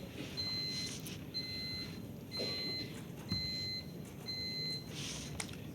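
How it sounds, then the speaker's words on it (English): Five evenly spaced electronic beeps from quiz buzzers, each about half a second long, repeating over a low background hum. "buzzers are working. So these are break circuit buzzers"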